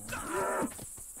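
A bull in the video game Atlas lets out a single drawn-out, rising moo lasting about half a second, close and fairly loud, followed by low background noise.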